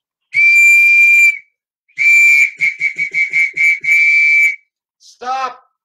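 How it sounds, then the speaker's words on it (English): A loud, piercing whistle blown in long blasts, then a rapid series of short staccato toots and another sustained blast, followed by a brief rising voice-like squeal at the end. "Please blow the whistle."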